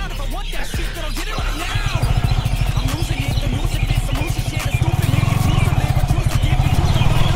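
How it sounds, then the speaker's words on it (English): Yamaha R15 V3 motorcycle ridden at night through a market area, its engine a steady close, loud pulsing drone that grows stronger and more rapid partway through, with busy street noise around it. "चलो देखते हैं रात में V3 को भी भगा के"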